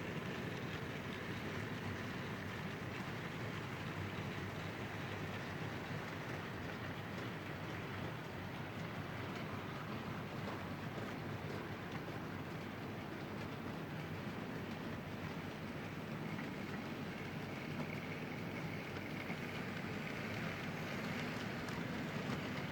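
An OO gauge model locomotive, a heavy large prairie tank engine, runs steadily while hauling weighty coal wagons, giving a continuous close rumbling rattle of wheels on track with no breaks for the whole stretch.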